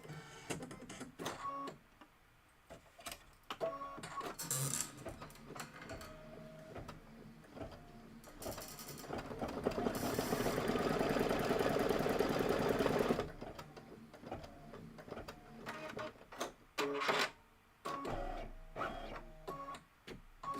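Embroidery machine stitching a small detail on a flower container in brown thread: a steady mechanical stitching run of a few seconds in the middle, framed by scattered clicks and handling noises, close and unaccompanied by talk.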